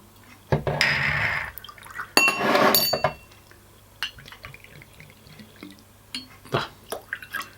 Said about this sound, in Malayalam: ഒരു രണ്ട് പേക്ക് ഒഴിക്കാം